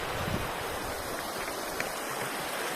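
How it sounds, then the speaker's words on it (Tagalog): Water rushes and splashes continuously, a steady broadband wash with no pauses, like a nearby stream. "Naririnig yung kalampag ng tubig."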